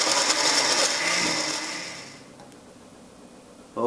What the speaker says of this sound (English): we're ready to blend this puppy